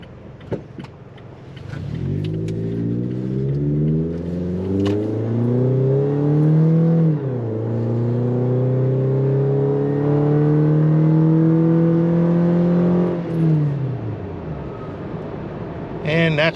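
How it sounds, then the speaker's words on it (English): Toyota Tacoma 2.7 with a Borla cat-back exhaust accelerating, heard from inside the cab: a steady engine drone whose pitch climbs, dips at a shift, then climbs again before easing off, with a brief voice near the end. "Hopefully you're hearing the sound of the Borla there."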